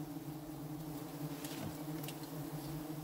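A wild bee colony on its honeycomb gives off a dense, steady buzz, close and continuous throughout with no talk.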